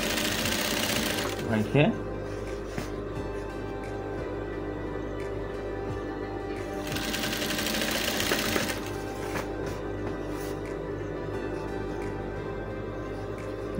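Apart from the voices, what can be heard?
sewing machine stitching a dashiki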